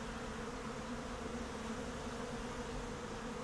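Honey bees buzz around a strong hive with pollen-laden foragers, making a dense, continuous hum at low volume that stays even throughout, with no voices.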